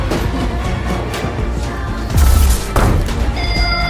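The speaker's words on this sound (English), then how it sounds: "Little did he know it was a delayed action grenade." A heavy boom of a delayed-action grenade explosion hits suddenly midway, followed by a second burst, layered over a dense, loud backdrop.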